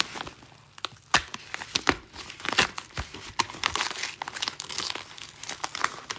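Paper envelope torn open carefully by hand, a run of close crinkling and tearing crackles with sharp snaps over about six seconds, no talking.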